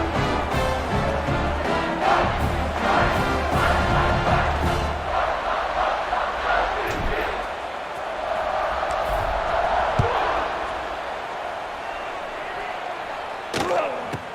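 A stadium crowd in the College Football 26 video game roars with a loud, sustained wall of cheering and chanting, broken by a few sharp thuds, while a commentator speaks over it.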